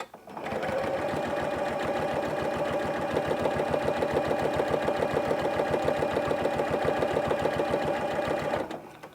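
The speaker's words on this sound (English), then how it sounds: "I'm just going to stitch all the way up that drawn line." Janome CM17 sewing machine fitted with an HP2 walking-style foot stitching a long straight seam, a steady rapid mechanical chatter running evenly at close range for about eight seconds.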